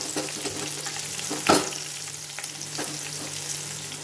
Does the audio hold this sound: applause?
no